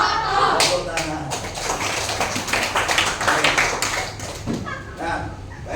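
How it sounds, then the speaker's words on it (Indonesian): Schoolchildren in a classroom clap their hands in a quick rhythmic burst, many sharp claps close together, with voices calling out over them. "Tepuk tangan."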